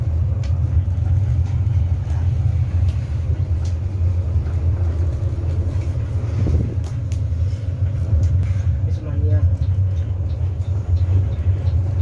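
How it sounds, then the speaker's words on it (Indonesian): Inside an Epastar The Sultan intercity bus on the road, a constant low engine drone and road rumble fill the cabin, broken by occasional faint rattles and a soft brief thump. "Ini adalah suasana di dalam bus Epastar The Sultan"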